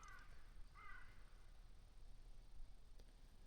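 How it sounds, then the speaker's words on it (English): A crow caws twice in the background, faint and distant, with soft outdoor ambience and no voices. "And a crow just squawking in the background."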